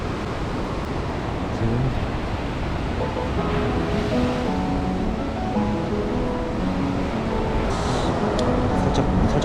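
Ocean surf rolls in continuously at Gyeongpo Beach in Gangneung, a loud, broad wash of breaking waves with wind noise and a few faint voices and background tones mixed in; a brief word is spoken.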